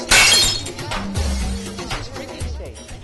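A loud, sudden glass shattering sound effect bursts at the start, followed by tinkling fragments and scattered low thuds as it fades.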